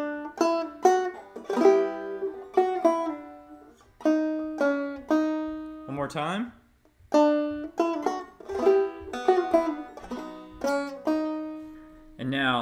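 Clawhammer banjo plays "Greensleeves" in bright plucked notes and quick strummed rolls, the melody moving in uneven bursts with a short stumble midway, close and alone apart from a brief spoken aside.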